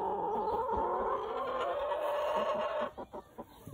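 Backyard flock of Golden Laced Wyandotte, Easter Egger and Buff Orpington chickens clucking and murmuring steadily at moderate distance, a continuous busy chatter that eases toward the end.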